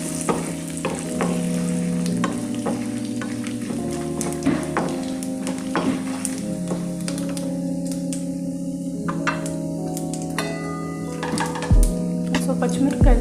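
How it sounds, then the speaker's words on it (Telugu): Dried red chillies and cumin seeds sizzle and crackle in hot oil in a pan, with a spoon stirring and tapping as a steady, close frying hiss continues and a voice speaks over it. "రెండు ఎండుమిరపకాయలు, కొద్దిగా జీలకర్ర, అన్నీ వేసి బాగా ఫ్రై చేసుకుందాం."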